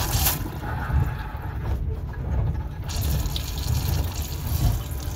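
Tap water running steadily into a fold-out washbasin in a sleeper compartment on a Patagonian train, a close, continuous splashing stream over low rumbling train noise.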